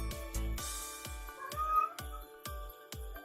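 A talkative cat meows insistently several times, close and fairly faint, mixed with repeated low thumps and soft indoor clatter.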